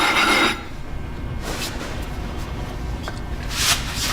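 A hone stone is scrubbed against an abrasive surface to clean and flatten it, making close rasping strokes with louder bursts at the start, in the middle and near the end, over a steady gritty rub.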